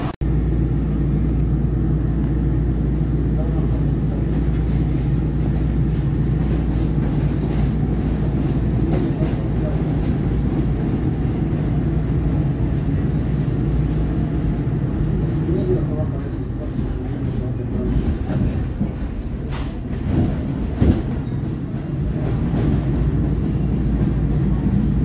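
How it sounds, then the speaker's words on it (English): A SEPTA Market-Frankford Line subway train runs steadily, a loud continuous low rumble with rattles and brief clanks near the end, under no clear talk. "Frankford train making all stops."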